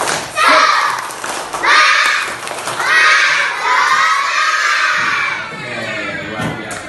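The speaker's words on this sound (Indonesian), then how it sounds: "Coba tepuk semangat." Schoolchildren in a classroom perform a spirit clap chant, a group of young voices shouting in rhythmic bursts with thumping claps, loud and close, repeating several times across the room.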